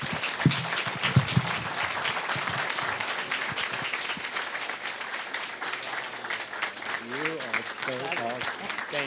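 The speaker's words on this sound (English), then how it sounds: "Let's all give him an astounding round of applause." Applause for a retiring mayor at his retirement event, steady crowd clapping with a few sharp close claps early on and voices and cheers mixed in toward the end.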